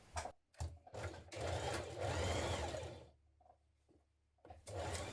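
A sewing machine stitches the underarm seam of a dress sleeve, running in steady bursts of close, even whirring with short pauses between them.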